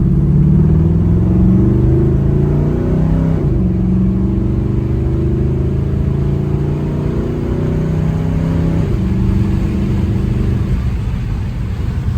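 A 1972 Chevrolet Nova engine drones loudly and close as the car accelerates, its pitch climbing through two gear shifts before easing off near the end.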